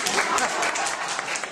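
An audience bursts into brisk, sustained clapping, a dense patter of many hands filling the room at close range.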